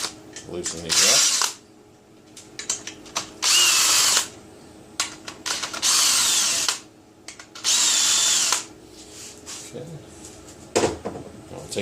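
A power drill loosens bolts on a Ridgid 4x6 bandsaw during disassembly, revving in four or five loud bursts of a few seconds each, with short ratcheting clicks and tool handling between them.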